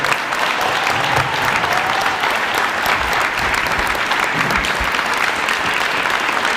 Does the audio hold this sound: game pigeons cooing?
no